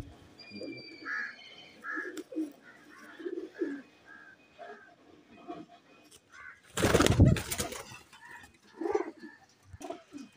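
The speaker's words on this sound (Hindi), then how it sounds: "आप ये चौधरी सखी वाली टैडी मादियाँ देखें।" Teddy pigeons, females from a Lahore breeder's loft, coo softly in short warbling phrases close by, broken midway by one loud burst of flapping wings.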